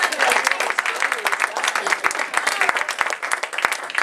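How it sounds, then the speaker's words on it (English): Audience at a summer improv and monologue workshop giving a round of applause, a steady, dense burst of many hands clapping nearby that holds at an even level throughout. "Okay, give them a round of applause."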